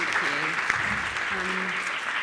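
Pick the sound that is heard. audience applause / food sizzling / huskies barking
audience applause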